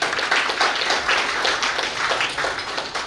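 An audience claps steadily at an anniversary ceremony and celebration for newly elected Korean National Assembly members, a close, busy patter of many hands that holds at an even level throughout.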